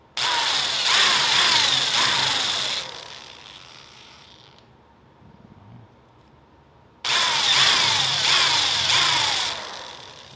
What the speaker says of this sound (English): So we'll go ahead and drill the eyes.